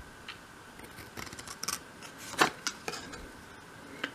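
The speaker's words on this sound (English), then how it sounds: "So bring in your scissors and make those cuts." Scissors snip through a small paper template for a 1/12th scale dolls house miniature overnight bag, a few sharp close clicks and cuts spaced irregularly in an otherwise quiet room.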